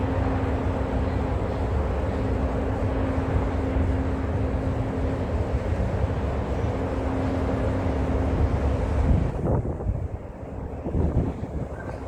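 Strong wind on a Hong Kong rooftop buffeting the microphone in a constant low roar, with a brief shift in the rumble near the end.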